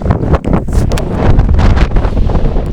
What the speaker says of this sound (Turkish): aşırı bir rüzgar var